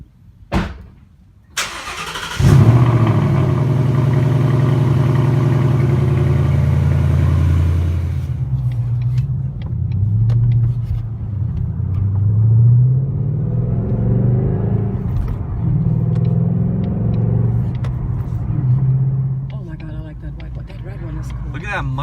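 A supercar engine at a Cars and Coffee meet, where a Ford GT and a McLaren 600LT are present, cranks and fires up close, then settles into a loud, steady, deep idle rumble that swells now and then.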